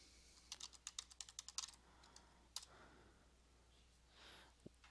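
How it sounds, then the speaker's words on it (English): Quick run of soft keystrokes on a computer keyboard as a search word is typed, a brief cluster of clicks with a single tap afterward, faint and close; no talking. "you can click up here in the search bar and let's type chronology"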